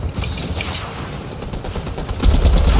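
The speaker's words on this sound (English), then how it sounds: "Dude, he's got a million bullets!" Dense burst of rapid automatic gunfire in a Fortnite match, a steady loud rattle of overlapping shots that swells louder toward the end, with no talking over it.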